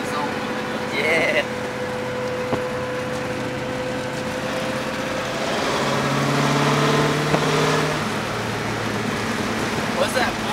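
Engine of a 1965 Pontiac GTO rumbling while cruising, swelling into a louder rev midway before settling back, heard from inside the car under traffic noise and people talking.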